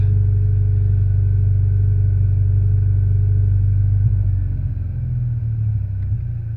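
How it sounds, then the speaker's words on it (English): A Mitsubishi Lancer Evolution X engine idling during a clutch ventilation routine, with a steady, loud low rumble that rises and wavers toward the end as the revs change. "now the car will rev"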